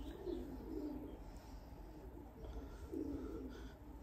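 A young pigeon bred in 2022 coos softly in a few low, rounded phrases, quiet and fairly close against a steady background hum.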